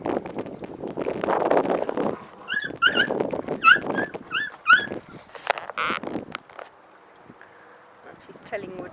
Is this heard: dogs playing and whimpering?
yes